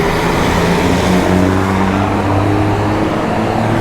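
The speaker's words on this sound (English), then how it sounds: "we have a city bus coming by" A city bus rumbles past loudly and close on a street in León, Nicaragua, its engine drone holding steady with traffic noise and no talk.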